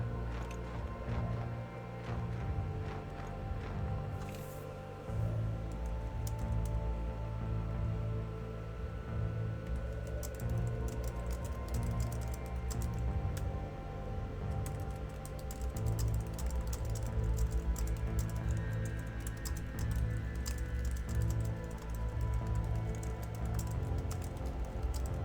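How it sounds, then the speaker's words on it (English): Keys tapped on a computer keyboard while typing into a livestream chat, a steady run of small clicks layered over continuous background game music and ambience. "Just typing in the chat in case people aren't picking me up."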